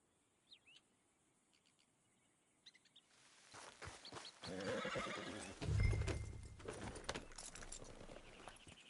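A horse whinnies, then hooves clip-clop closer alongside jangling tack, growing louder, with faint bird calls early on; no talking.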